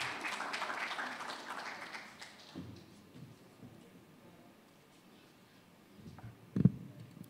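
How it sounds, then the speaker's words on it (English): A burst of clapping at an architects' meeting fades out over the first couple of seconds, leaving a quiet room with faint shuffling and a sharp knock near the end. "Let's welcome with a round of applause"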